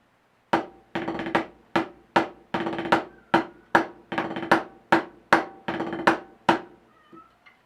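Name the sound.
snare drum playing seven and two rudiment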